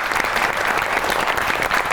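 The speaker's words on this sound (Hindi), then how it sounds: "आपकी बहुत सी तालियों में the one and only Oriya Maqbool." Studio audience applause on a television talk show, a loud, dense, continuous burst of clapping with no break across the whole stretch.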